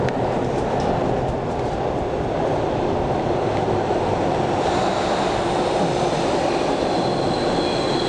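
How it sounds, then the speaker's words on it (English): Subway train in motion, a loud continuous rumbling roar of wheels on rails with rushing hiss from inside the car, steady throughout with no speech. "so now I'm on the subway"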